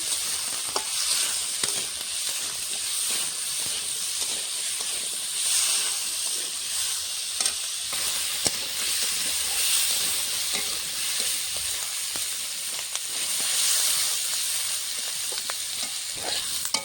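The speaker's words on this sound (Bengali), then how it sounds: "দিয়ে ভালো করে আলুটা ভেজে নেব" Potatoes frying in oil with salt and turmeric, a steady close sizzle and hiss that runs throughout, with occasional light stirring scrapes and no talk.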